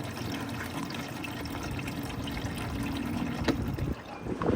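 Liquid drains from a hose on an old Chevy truck, a steady gurgling trickle and splash that runs on continuously at moderate volume, close by, with a small knock near the end.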